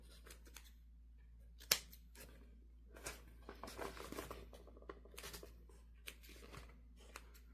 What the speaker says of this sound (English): Trim up all that loose strings.